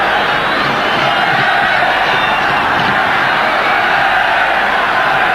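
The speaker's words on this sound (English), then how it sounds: "Now the crowd roaring Zambia on." A packed football stadium crowd roars continuously at a Zambia vs Nigeria match in 1994, a dense, loud and unbroken wall of cheering voices.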